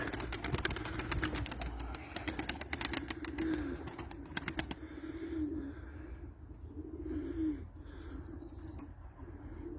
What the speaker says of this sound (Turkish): Kuşlar bunlar.